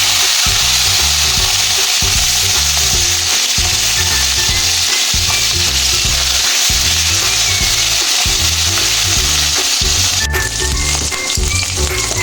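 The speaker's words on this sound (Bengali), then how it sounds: "তেল গরম হয়ে গেছে। এবার আমি ট্যাংরা মাছগুলোর মধ্যে দিয়ে দেবো।" Tengra fish fry in hot mustard oil in a kadai, giving a loud, steady, close-up sizzle that runs unbroken throughout with no voices.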